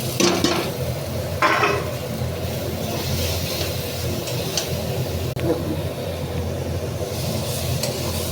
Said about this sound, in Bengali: আলু মশলা ভাজা হয়ে গেছে।